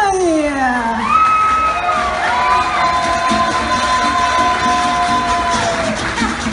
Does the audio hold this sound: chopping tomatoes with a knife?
no